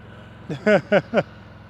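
A motorcycle engine holds steady throttle during slow-speed riding practice, a constant low drone running beneath several short bursts of nearby talking.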